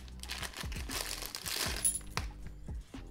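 A plastic ziplock bag holding a metal bolt puzzle is opened with close crinkling and rustling, dotted with small metallic clicks and taps as the pieces shift inside.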